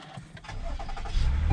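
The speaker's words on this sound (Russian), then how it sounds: "заводим машину" A Toyota Highlander engine cranks and catches after the ignition is switched on, its low rumble building steadily to a loud, close idle.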